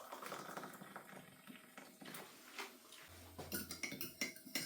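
A fork stirring a mixture in a bowl for a beef cobbler, faint irregular clinks and taps of metal against the dish, quick and uneven, close but quiet, with no talk.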